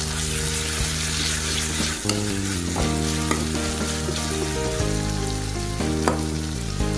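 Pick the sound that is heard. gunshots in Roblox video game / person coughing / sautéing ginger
sautéing ginger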